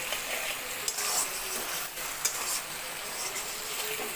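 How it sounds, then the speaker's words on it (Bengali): Chicken being sautéed for Bengali chicken kosha in a pan, a steady broadband sizzle with a few soft scraping stirs and small clinks, close and moderately loud, with no talking. "আরও অল্প সময় কষানো হবে,"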